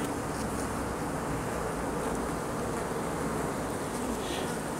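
Honey bees hum inside a beehive, a dense, constant buzzing drone that stays close and even throughout with no pauses.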